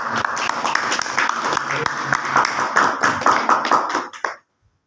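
Audience applauding at a DTM King Group business plan meeting in Gurgaon as a second-level achiever is called up; dense, steady clapping from many hands close by, swelling then cutting off abruptly.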